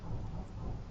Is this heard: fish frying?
no